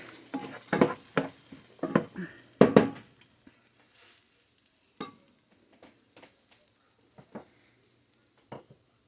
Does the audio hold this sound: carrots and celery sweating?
yes